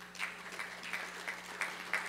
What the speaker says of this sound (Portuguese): E isso merece uma salva de palmas.